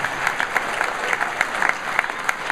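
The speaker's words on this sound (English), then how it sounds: "Give her a round of applause." An audience applauds a speaker's wife, a full, even burst of many hands clapping that continues steadily throughout.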